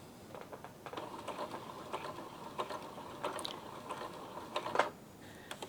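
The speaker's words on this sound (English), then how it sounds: "If you are sewing on a low level of fabric and then you come up to a big bump, this is what happens." A sewing machine stitching over a thick bump in fabric, a quiet rhythmic mechanical clatter of the needle with uneven knocks and ratcheting, the stitches labouring and catching a little louder near the end, no voices.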